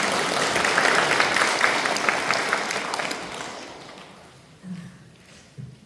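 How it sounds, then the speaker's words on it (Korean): Enthusiastic applause from a congregation at a Won Buddhist temple service, loud and dense for about three seconds, then thinning and fading into a few scattered claps and soft thumps. "박수 한번 크게 쳐주세요."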